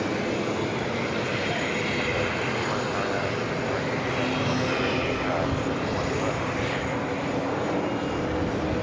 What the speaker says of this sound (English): Should see some movement on this Delta A220-300, the flight heading back to Minneapolis.